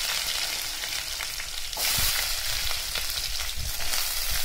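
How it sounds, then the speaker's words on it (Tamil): Onions added to hot oil already holding cumin and fenugreek for a drumstick, mango and brinjal sambar, a loud steady sizzle that jumps in intensity midway as they hit the pan, close and continuous with no talk. "இப்ப நம்ம வந்து வெங்காயம் சேர்த்துக்கலாம்."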